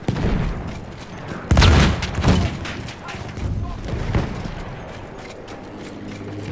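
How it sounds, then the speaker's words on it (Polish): A grenade blast in Battlefield 1 booms loudly, followed by scattered gunshots and mechanical clatter in the snowy battlefield, the explosion standing out near and heavy before fading into distant firing. "Granat totalnie na ślepo."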